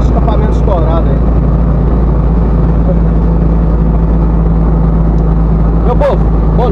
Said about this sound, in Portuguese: Além de acelerar pra caramba, ainda tá o escapamento estourado aí.